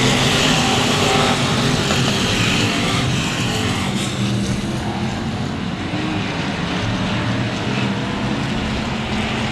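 Stock cars race on the Cotton Bowl Speedway track with a loud, continuous roar of engines that swells and fades as the cars pass close by. No one speaks.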